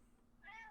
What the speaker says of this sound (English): my cat is making a guest appearance